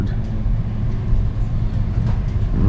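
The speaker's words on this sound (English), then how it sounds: "So now we're in a train yard." Low, rumbling train noise fills a train yard on a scenic railway, a steady heavy mechanical drone with faint clanks, like railcars moving nearby.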